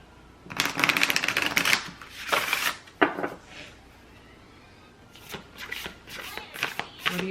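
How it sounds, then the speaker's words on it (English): Oracle cards are shuffled in quick, crisp riffling bursts, several rounds with short pauses, close up and fairly loud. "Alright, I need to shuffle."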